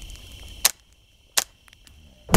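A few sharp, isolated gunshots from the video game This Land Is My Land crack out, spaced irregularly with quiet gaps between them, the last one loud and close.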